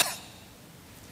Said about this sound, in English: And when you cough, you go,